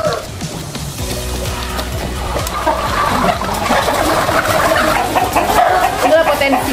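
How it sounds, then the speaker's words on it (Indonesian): Chickens clucking and calling at a village poultry farm in Sukamaju, North Sumatra, a dense, close flock chorus that grows busier toward the end, with faint voices in the background. "Sukamaju beternak ayam."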